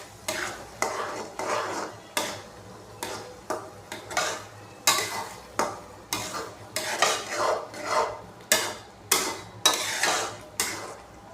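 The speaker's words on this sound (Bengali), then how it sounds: "সাহায্যে আমি আমগুলো নাড়াচাড়া করে নেব।" Grated raw mango being stirred in a pan over low heat, with a steady rhythm of scraping, clinking strokes about once per second, each a short swish of utensil against metal, close and fairly loud with no talking.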